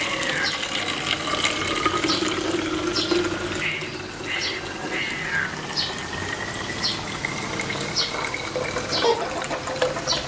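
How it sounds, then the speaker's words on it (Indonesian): Hot palm sugar liquid pours into a plastic bottle, a steady watery trickle and gush running continuously over a faint background, with no talk. "tuangkan cairan tersebut ke dalam botol plastik"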